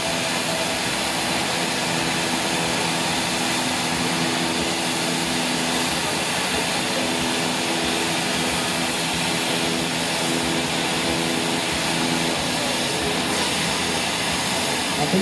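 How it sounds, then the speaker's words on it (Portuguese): Aerobatic display aircraft of the Brazilian Air Force's Esquadrilha da Fumaça at an air show in Londrina, a steady loud roar of engine noise that fills the whole stretch without pause, with faint announcer talk mixed beneath. "Atenção para o corte do motor."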